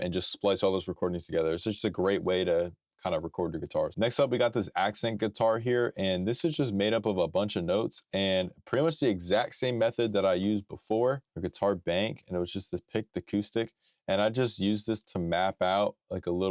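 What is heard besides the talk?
No distinct noise like a dog, phone or traffic.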